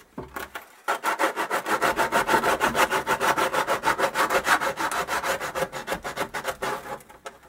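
Metal file rasping along the edge of a Suzuki Hayabusa front mudguard, a steady run of rhythmic back-and-forth strokes, close and fairly loud, after a brief pause at the start.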